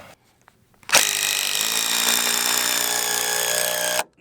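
A power drill drives Strong-Tie fasteners into solid oak while a 4000 lb shed is lifted, a single loud, sustained whining grind of about three seconds that starts abruptly and cuts off sharply.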